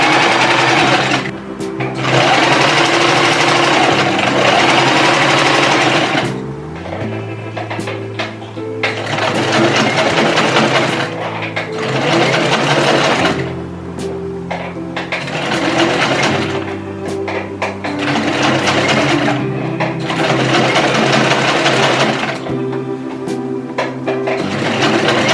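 A sewing machine stitches a skirt waistband, running loud and close in long steady whirring bursts separated by short pauses, with the motor pitch shifting between runs.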